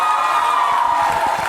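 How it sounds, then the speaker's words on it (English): An audience at a youth event's grand finale cheering and applauding mentor teachers, a brief steady wash of crowd noise. "let's give a huge round of applause to all our mentor teachers"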